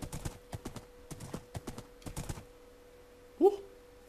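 A few quick hoof clip-clops from a horse in Minecraft patter unevenly in bursts, followed by a short horse whinny near the end, with a steady hum underneath.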